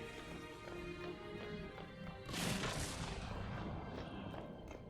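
Detonation in the video game Dragon Age: Inquisition, a single loud explosive burst midway that rumbles and fades over continuous game ambience and music.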